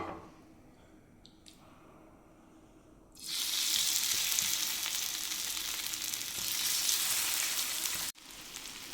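Fish pieces dropped into hot coconut oil in a frying pan set off a sudden loud, steady sizzle that runs close and unbroken for several seconds after a few quiet kitchen clatters.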